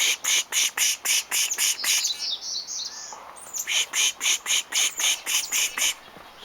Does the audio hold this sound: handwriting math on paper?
no